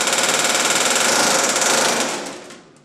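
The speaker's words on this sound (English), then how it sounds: "I'll put the rivet gun right on the end of it." A pneumatic rivet gun sets a rivet with a loud, rapid hammering burst that holds steady for about two seconds, then trails off quickly.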